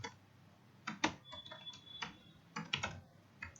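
Keys tapped on a computer keyboard in short quiet bursts of clicks, a few taps at a time with brief pauses between them, close and soft, with no talking.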